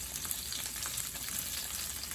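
Korean rice cake and hotdog skewers fry in a pan, giving a steady, close hiss of bubbling oil with fine crackles throughout and no talking.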